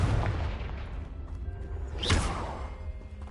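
A Confringo fire spell in the Hogwarts Legacy video game, a whooshing blast that swells into a loud burst partway through over a steady low rumble of game ambience.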